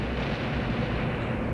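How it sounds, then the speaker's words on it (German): A train blows up in the video game Blood, a dense, sustained roar of explosive rumble heard alone, loud and close, with no break over its short span. "Wir sprengen gerade den Zug"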